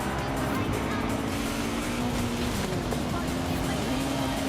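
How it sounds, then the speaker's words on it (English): In Forza Horizon 5, a car engine, heard from inside the cabin, holds a loud, continuous drone with a slowly wavering pitch, steady and close throughout. "Car sounds better inside."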